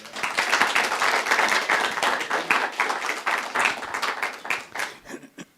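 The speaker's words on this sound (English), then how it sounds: "Round of applause." An audience at a church service breaks into a round of applause: dense, fast hand clapping that holds steady for several seconds, then thins out and fades to quiet.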